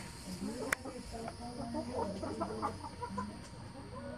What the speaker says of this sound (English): All these chickens are eating this fruit right here